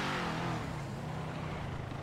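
A car engine in the GTA video game revs loudly and steadily at close range, a dense continuous roar that eases slightly toward the end, with no talk.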